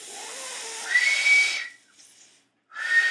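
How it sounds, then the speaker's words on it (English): A person whistles with their mouth in a thin, airy tone, one breathy held note, then a short pause and a fainter try, then another whistle starting near the end. "You gotta make a whistle with your mouth."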